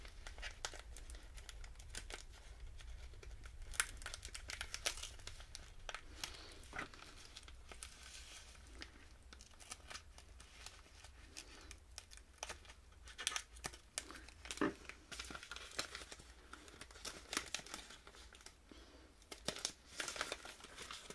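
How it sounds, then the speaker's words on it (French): A well-wrapped gift package being unwrapped, with steady crinkling and crumpling of paper and sharp bursts of tearing throughout, close and fairly quiet, no talking. "Encore bien emballé. Je vais enlever ça."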